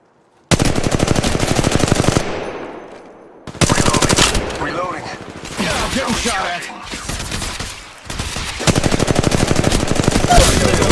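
Rapid automatic gunfire in Apex Legends Mobile, loud close bursts of continuous shots broken by short gaps, with quieter fire and muffled shots between the main volleys.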